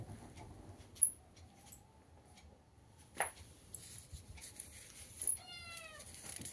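A cat gives a short meow near the end, faint against a quiet room, after a few soft knocks and thumps.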